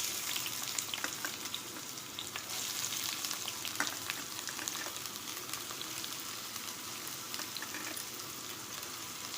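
Onion sizzling in hot oil in a pan, a steady dense crackle and hiss with occasional sharper pops, close and continuous throughout.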